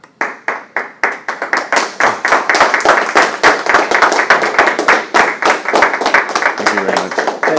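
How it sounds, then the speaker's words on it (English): An audience applauds a speaker, beginning with a few separate claps that quickly build into steady, dense clapping from many hands that continues throughout. "Give him another round of applause, everybody."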